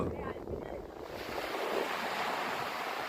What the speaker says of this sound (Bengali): তার সঙ্গে বড় বড় ঢেউ।